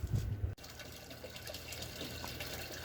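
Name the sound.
fish pond trash can filter running, water pouring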